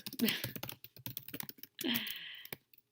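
Close keystrokes on a computer keyboard come in quick bursts with short pauses, clicking rapidly and fairly quietly with nothing else around them.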